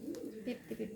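Racing pigeons coo softly in a few low, throaty bursts, close by and faint, with a little talking around them.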